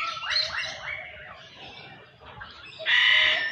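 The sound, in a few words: cockatoo calling in the TMII bird park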